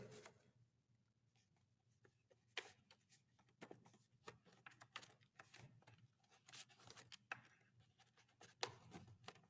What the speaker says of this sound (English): write or draw it on the piece of paper